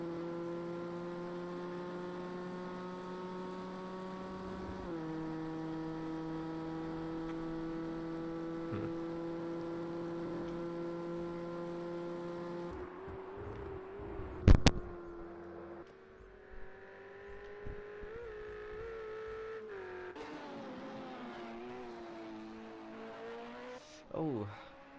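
Ford GT race car in Project CARS 2 revving hard and bouncing off the rev limiter, a steady high engine whine with shifting pitch, brief sharp bursts midway, and voices talking over it.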